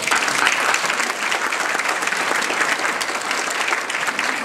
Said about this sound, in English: these House and Senate members deserve a round of applause